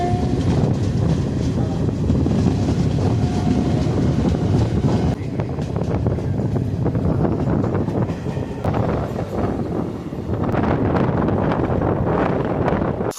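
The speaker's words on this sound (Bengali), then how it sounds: "আমাদের ট্রেন ছেড়ে দিল কাশিমবাজার স্টেশনের 2 নম্বর প্ল্যাটফর্ম থেকে।" Bhagirathi Express passenger train running after leaving Kashimbazar station, heard from on board as a loud continuous rumble and clatter of wheels with heavy wind buffeting throughout.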